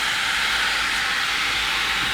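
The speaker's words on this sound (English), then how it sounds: "I'm going to put in 1 cup of beef stock" Beef stock hitting a hot pan, a loud, steady, close hiss of sizzling liquid that holds evenly throughout without pause.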